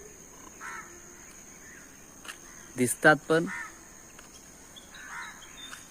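Several crows caw in a quick burst of three or four harsh calls, fairly close, with a brief spoken phrase and quiet insects in the background.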